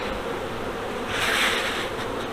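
Honeybees buzz in a dense, steady drone around an open hive during an inspection, the swarm noise swelling louder midway as the box is worked, with no voices over it.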